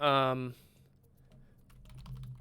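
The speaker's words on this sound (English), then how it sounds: "it requires just a little bit of typing here" A voice speaks briefly, then a computer keyboard clatters with a run of quick, light keystrokes, close and clear over a quiet room.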